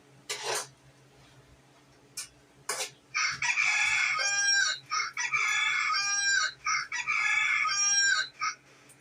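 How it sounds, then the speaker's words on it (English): A phone alarm plays a rooster crowing loudly three times in a row, each long call close by, after a few short clattering bursts. "we know Piggy's got a rooster on him. That's what she has on hers to wake us up in the morning."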